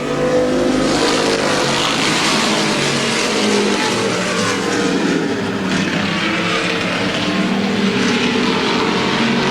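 Stock cars race at Lorain County Speedway, a dense, continuous roar of several engines close by, loud and steady throughout with no break.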